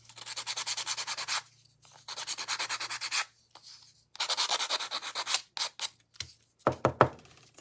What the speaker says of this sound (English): So I'm just giving it a sand.